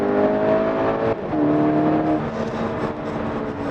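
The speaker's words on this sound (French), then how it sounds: "Là on entend déjà un peu plus le moteur ainsi que l'échappement." Skoda Octavia RS 245 TFSI engine and exhaust heard from inside the car, a steady droning hum that rises in pitch as the engine pulls, continuous and moderately loud with no talking.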